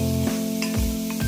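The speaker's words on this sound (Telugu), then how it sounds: "ఆయిల్ పైకి వచ్చేంత వరకు వేగనివ్వండి. చిన్న మంట మీద వేగనివ్వండి." Onions and masala frying in oil over a low flame in a large pot, a soft steady sizzle with a few brief stirring scrapes and spatters, close and alone.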